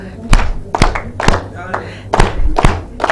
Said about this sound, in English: How many know the Moi clap?